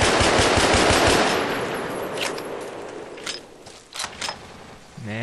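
Machine gun covering fire in the Vietnam War shooter Vietcong, a loud rapid burst of automatic fire at the start that fades into scattered distant shots and mechanical clanks.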